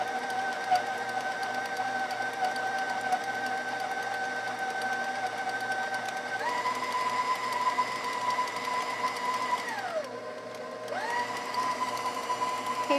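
An electric stand mixer runs steadily, creaming frangipane ingredients, with a constant motor whine that steps up in speed partway through, dips briefly, then picks back up; close and alone, with no talking.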